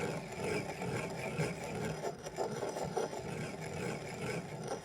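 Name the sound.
grinding millet in a mortar into coarse flour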